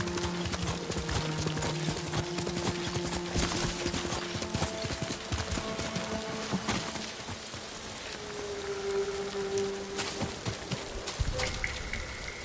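Hooves of the horse Kage clip-clop in a fast galloping rhythm in the video game Ghost of Tsushima, with steady continuous footfalls under game ambience and occasional chimes.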